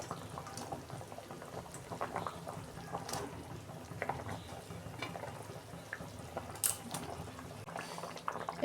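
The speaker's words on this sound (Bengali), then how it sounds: "ঝোলটা ফুটে গেছে, মাছগুলো আমি দিয়ে দিচ্ছি" Fish curry broth for a tengra fish dish bubbling at a boil in the pot, a soft continuous burble with small pops and faint stirring, close but fairly quiet, no voices.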